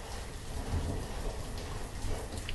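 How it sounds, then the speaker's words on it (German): Steady rain falls in the video game Banished. The downpour hisses continuously with a low rumble like distant thunder beneath it, and no voices are heard. "Hat das immer schon so oft geregnet oder kommt mir das jetzt nur so vor?"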